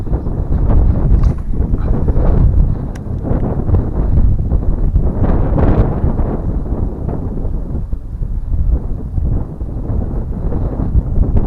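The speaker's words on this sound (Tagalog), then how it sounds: "Malakas lang ang hangin, mga ka-fishing." Strong gusting wind buffets the microphone outdoors at a muddy fishing spot, a loud continuous low roar with uneven surges and no clear talk.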